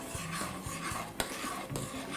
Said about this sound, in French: puis je vais mélanger